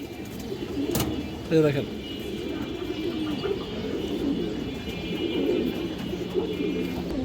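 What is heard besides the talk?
male Sapchila pigeon cooing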